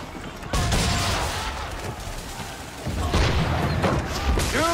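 Chain shot cannon fire booms across a naval battle in Assassin's Creed 3, with rolling heavy blasts and crackling volleys that come in waves, loud and close, with no speech over them.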